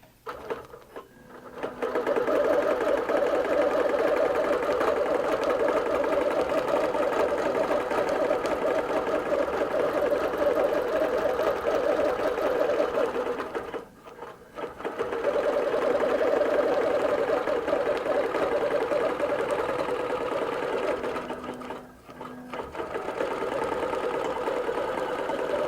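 QBOT V3 quilting robot driving a sewing machine across a quilt, a loud, steady rapid stitching whir that runs continuously, with two brief pauses where the machine stops and restarts.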